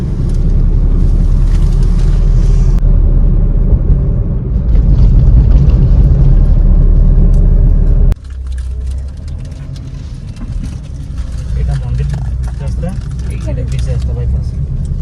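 A car drives on the road into Puri from Bhubaneswar, its engine and road rumble steady and loud throughout, dropping slightly in level about halfway as the cabin sound shifts, with wind noise and light rattles and a voice talking over it.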